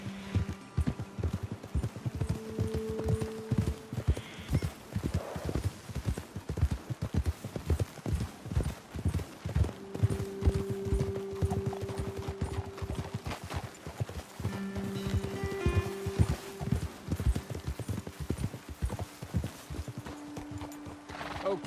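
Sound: horses' hooves clip-clopping while riding, from video game Red Dead Redemption 2

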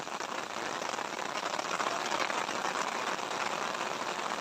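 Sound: rain falling

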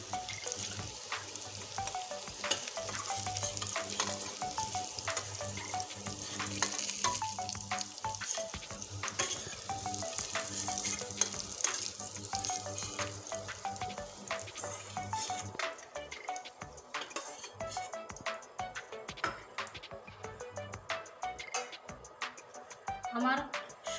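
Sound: potatoes frying in a pan with soybean curry spices

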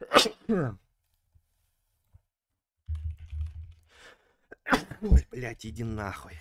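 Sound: sneeze

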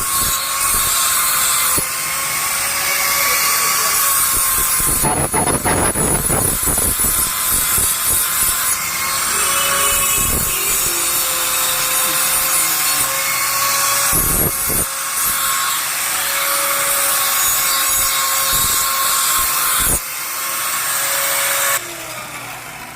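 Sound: grinding and sharpening knife blade in ironsmith workshop

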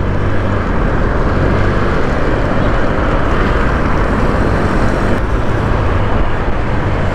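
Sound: Honda Click 125i fuel-injected scooter accelerating

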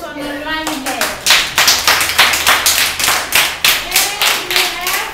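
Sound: children clapping hands

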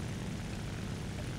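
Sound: Il-2M Sturmovik aircraft engine in video game War Thunder

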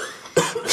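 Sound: cough

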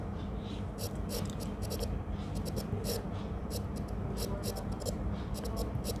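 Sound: writing answer on paper

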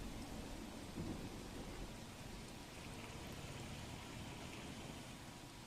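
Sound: heavy monsoon rain

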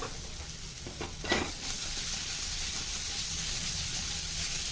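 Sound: tossing ivy gourd masala in pan without spoon

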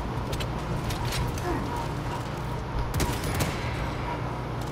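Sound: explosion in the video game Warhammer 40000: Space Marine 2

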